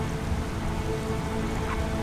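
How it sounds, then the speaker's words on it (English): Steady rain falls in a video game, an even hiss of drops on surfaces that stays constant and close throughout, with no voices. "I remember the rain."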